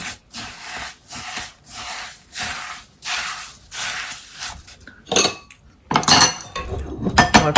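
A spoon scrapes steadily through a thick gluten-free chocolate mixture in a bowl, about seven rhythmic strokes, then louder knocks and clatters against the bowl.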